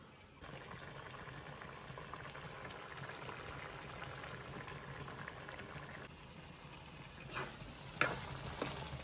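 A Konkan-style curry of kalwa oysters and tomato bubbles in a pot. A steady simmering hiss and gentle boiling churn carry on throughout, with a brief quieter stretch and a few clinks and stirring sounds near the end.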